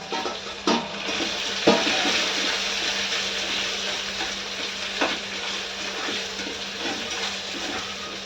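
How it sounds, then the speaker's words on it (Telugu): Ingredients for mango pickle frying in hot oil, a continuous close crackling sizzle broken by a few sharp knocks and scrapes of stirring, with no one speaking. "ఇలా ఫ్రై చేసుకున్నాము, మరి మాడకుండాను దోరగా."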